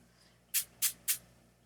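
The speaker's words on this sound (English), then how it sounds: "And I just basically spray the background." Three short, sharp hissing bursts of coloured shimmer spray hit the background of a black art journal page. The bursts are close and evenly spaced, with quiet room tone between them.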